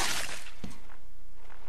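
Glass shattering in the video game Happy Wheels, a sharp, loud break at the very start with a short crash and rattle that fades quickly.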